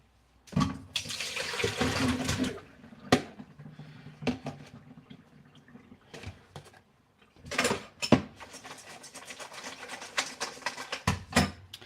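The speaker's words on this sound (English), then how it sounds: "the first thing I'm going to do is I'm going to strain off my potatoes and take the water off" Hot potato water is poured off through a colander into a kitchen sink, heard as bursts of splashing and gushing liquid with pauses and clatter between pours, close by and without talking.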